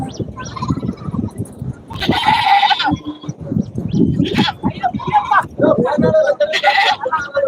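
Goats bleat repeatedly at a busy livestock market, several loud, near cries standing out over a constant crowd murmur with people talking throughout.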